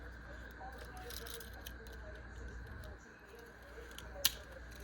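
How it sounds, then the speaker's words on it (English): Swiss Tech multi-tool scissors snip through cardboard in a series of crisp, close cuts and crunches, one sharp snap standing out near the end. "Cutting that cardboard like nobody's business"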